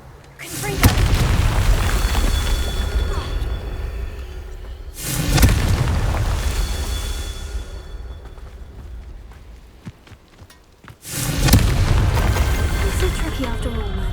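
Confringo fire blast spells from Hogwarts Legacy go off as three loud booming explosions, each erupting suddenly and rumbling into a long decaying roar, with a brief lull before the final blast.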